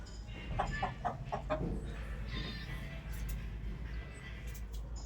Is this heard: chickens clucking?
yes